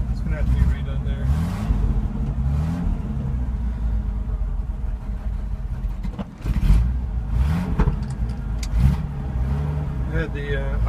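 A truck engine idles low and cold, its idle set too far down, giving a steady, close, deep rumble with slight uneven surges. There is a short dip near the middle before the rumble resumes.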